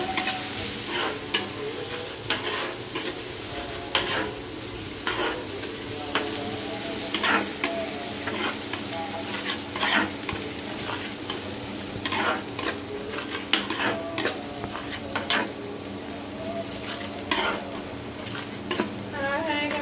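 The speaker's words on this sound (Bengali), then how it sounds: "মশলা কষানো শেষ।" Spices for a koi fish curry are stirred and fried in a pan, a steady sizzle broken by frequent sharp scrapes and clacks of the spatula in a quick irregular rhythm; no talking.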